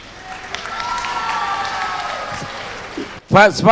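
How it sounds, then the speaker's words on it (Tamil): An audience claps at a Tamil public speaking event, a sustained, dense burst of applause that fades before a voice breaks in at the end. "முதுமையில் வரும் தனிமை என்றும் கைத்தட்டல் விழுகிறது"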